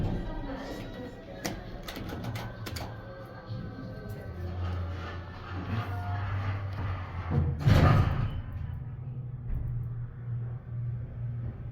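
A ThyssenDover Impulse hydraulic elevator at a senior living building rumbles low and steady as the car goes down, with a thud and a swell near the end and faint talk over it.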